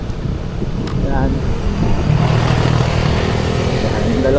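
Two motorcycles riding alongside a car on a rural road to a campsite in Tanay, Rizal, give a steady engine drone with wind rush, joined by a brief horn-like tone and faint speech.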